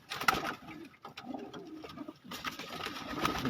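Pigeons kept for sale, including golden and Chinese patti types, coo softly and intermittently at close range: short low throaty calls, with scattered rustles and brief sharper sounds between them, and no talking.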